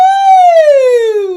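A single voice imitates a siren with one loud, smooth whoop that rises briefly and then slides slowly downward.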